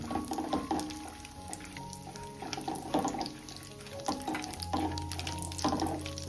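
Crushed cashews and chopped almonds sautéing in ghee give a steady close sizzle, broken by repeated scraping and clinking stirs against the pan, with a low hum underneath and no talking.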